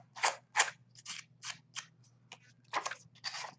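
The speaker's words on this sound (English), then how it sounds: "lately I'm liking just to kind of rough them up a little bit with my scissors" Scissors scrape and rough up the edges of paper in a quick series of about a dozen short, crisp snips and rasps, close and fairly quiet with no voices.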